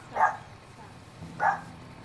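A dog in a Fallout: New Vegas survival-mode game barks twice, short mid-pitched yips about a second apart, moderately loud over a low background hum.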